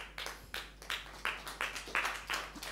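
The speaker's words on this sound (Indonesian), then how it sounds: "Tepuk tangan buat siapa itu?" Scattered handclaps from a congregation at a Sunday church service, a few sharp claps in an uneven rhythm, faint and thin, with no voices over them.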